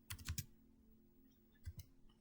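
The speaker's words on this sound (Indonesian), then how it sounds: "kita akan mengetik" Keystrokes on a computer keyboard while entering Cisco network switch configuration commands, in two short bursts of a few quick clicks each, near and quiet against a low steady hum.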